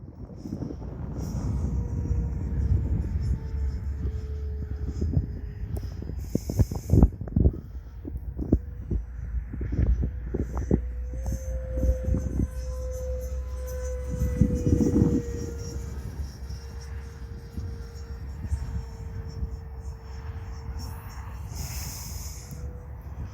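A remote-control jet makes an inverted pass on a windy day, its turbine whine holding a steady tone and swelling as it comes by, with gusty wind buffeting the microphone throughout.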